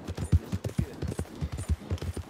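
Horse hooves in Red Dead, the video game, beating out an uneven galloping rhythm of close, punchy thuds through the whole stretch, with no talk over them.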